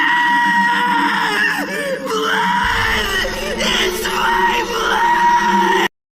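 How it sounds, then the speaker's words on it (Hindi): A man screams loudly and at length, raw yells rising and breaking, with harsh echoing tone, continuing for several seconds before cutting off. "किम बहुत ही तेजी में चिल्लाने लगता है"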